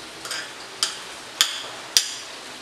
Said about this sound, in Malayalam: ഇതെല്ലാം കൂടെ നന്നായിട്ടൊന്ന് മിക്സ് ചെയ്ത് കൊടുക്കുക.